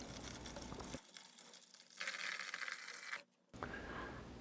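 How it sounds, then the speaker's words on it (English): Water is poured into the reservoir of an indoor self-watering herb planter, a quiet close trickling and gushing in several short bursts separated by brief pauses, heard alone. "you simply open the reservoir cover and pour in the water, watching the water level indicator as it rises"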